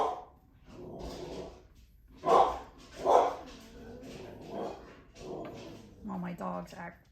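Several household dogs bark at a delivery arriving at the door, loud sharp bursts near the middle mixed with ongoing speech and indoor handling noise.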